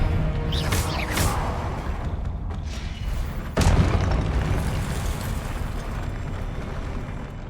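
A Confringo blasting spell detonates in Hogwarts Legacy, with several sharp booming bursts early on and a heavier, louder blast midway, over steady game ambience and rumble.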